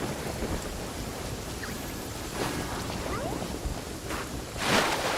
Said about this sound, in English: Why does it have to rain?